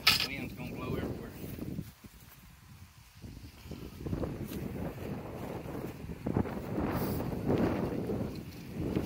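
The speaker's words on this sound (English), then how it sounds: "Wind is blowing again." Wind blows across an open outdoor work area by the water where hoop nets are being repaired and dipped, a steady rushing gust buffeting the microphone throughout, with people talking over it.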